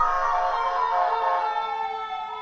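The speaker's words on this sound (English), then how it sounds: "That was an ambulance, not a fire truck." An ambulance siren passes close by, a loud, steady wailing tone sustained throughout with no one talking.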